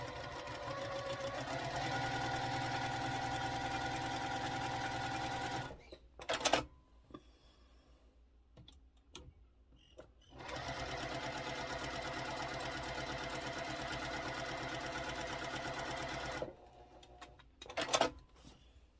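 A sewing machine stitches quilt block pieces for a Chisholm Trail sampler block, running in two steady bursts of about five seconds each, separated by a quiet pause with faint handling clicks.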